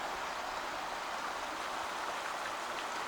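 A creek and spring water run among ghost town remains in Vienna, Idaho, giving a steady, even rush of flowing water that holds at one level throughout, with no talking.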